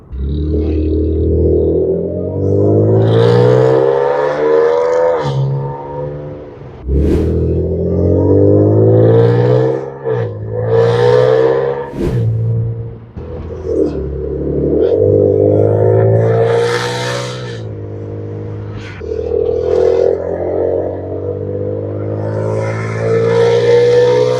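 A supercharged Audi S4 engine runs loud and close, its pitch rising and falling through a series of revs with short pauses between them.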